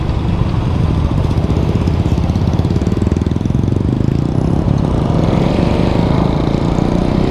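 A Suzuki Satria FU fuel-injected motorcycle engine chugs steadily while riding at moderate cruising revs, a loud close buzzing drone with constant rhythmic pulsing and rushing wind.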